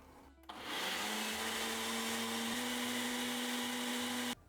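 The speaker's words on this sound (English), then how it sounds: "And now all we have to do is blend it up." A kitchen blender whirs loudly as it purées a green pasta sauce with pasta water, starting abruptly, holding a high steady motor whine for about four seconds, then cutting off.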